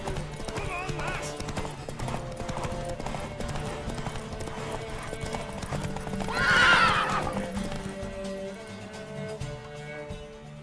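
Horse hooves pound steadily through a race in The Witcher 3, with a sharp whinny rising near the middle over busy game music and crowd noise, while voices speak throughout.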